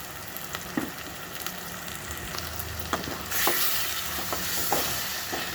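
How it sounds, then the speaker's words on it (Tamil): Blended tomato paste for a tomato egg gravy sizzles and fries in a pan while a utensil stirs and scrapes it, with occasional clicks and a sizzle that grows louder midway. "நல்லா பச்சை வாசனை போகிற வரைக்கும் நல்லா வதக்கிக்குவோம்."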